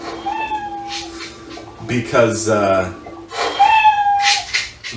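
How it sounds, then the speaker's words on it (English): A CFX lightsaber sound font plays a cat meowing sound twice, each a clear, loud, drawn-out meow, with people talking and laughing between them. "was a cat meowing."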